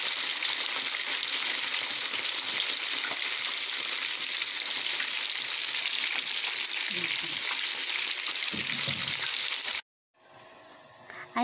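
Chicken deep-frying in hot oil, a dense, steady bubbling crackle held close for most of the stretch before cutting off abruptly near the end.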